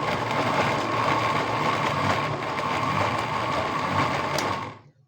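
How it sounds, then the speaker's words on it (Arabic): A kitchen blender whirs steadily as it mixes tahini with oil, a loud continuous motor drone that holds for about five seconds and then cuts off at the end. "تضربي كل ده كده في الخلاط"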